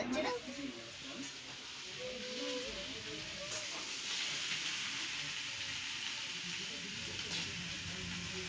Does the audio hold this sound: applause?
no